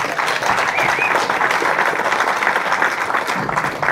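At a charity fundraising gala, a large audience gives a loud, sustained round of applause: thick overlapping clapping with a faint murmur of the crowd underneath.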